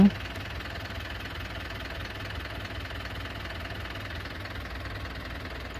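On a combine harvester with a weak battery, the starter motor grinds the engine over in a long, even, sluggish drone with no firing, heard up close from start to finish.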